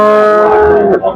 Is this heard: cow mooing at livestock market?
yes